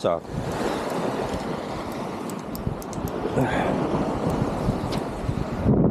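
Sea swell surges and breaks continuously off Beomseom island during squid egging fishing from a boat, a dense, rushing roar mixed with heavy wind buffeting on the microphone.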